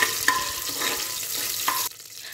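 Cloves, cinnamon and cardamom sauté in coconut oil with a close, steady sizzle, broken by a few light clicks of a stirring spoon before the frying sound drops away near the end.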